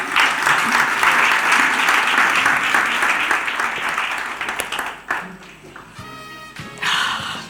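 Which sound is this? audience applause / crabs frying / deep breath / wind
audience applause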